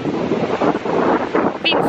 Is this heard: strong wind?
yes